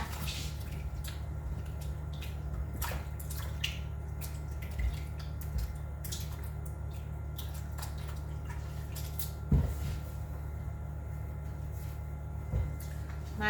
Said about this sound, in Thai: ล้างมือก่อนจ้ะ